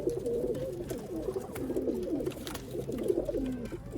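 Dozens of Sialkoti pigeons coo together in a loft, a steady overlapping chorus of soft throaty calls rolling on without pause, fairly close and continuous.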